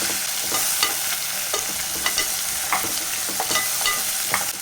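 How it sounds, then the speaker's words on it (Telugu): Tomato, coriander and mint leaves sizzle in a pan for gongura mutton, with steady frying hiss and repeated scraping stirs, close and moderately loud, no voices. "ఇప్పుడు కొంచెం కొత్తిమీర కూడా వేస్తున్నా కొన్ని పుదీనా ఆకులు కూడా వేస్తున్నా ఇప్పుడు వీటిని మళ్ళీ ఫ్రై చేసేద్దాం"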